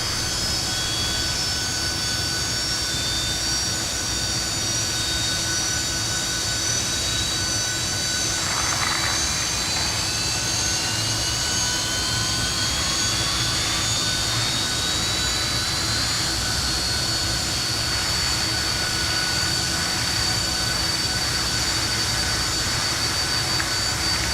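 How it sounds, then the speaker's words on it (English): Twin jet engines of a Fokker F28 in Microsoft Flight Simulator, a steady whining drone with high tonal whistles that slowly glide in pitch over a constant roar, heard alone. "Such cool jet sounds, man."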